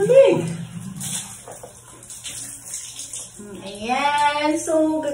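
Running water pours steadily while someone washes and conditions hair, a cool stream rushing close by as a person exclaims over it and hums.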